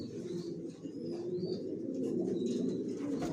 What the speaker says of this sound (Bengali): আমার লফটে সব একই লাইনের কবুতর, জনসনের কবুতর পালি